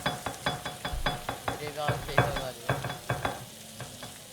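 Food cooking in the game One Armed Cook makes rhythmic stirring and sizzling clatter in quick regular beats, fairly quiet and close, with no talk.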